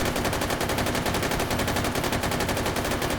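Sustained automatic fire from an M249 SAW machine gun in a VR game, a dense, loud, unbroken burst of rapid shots running steadily throughout.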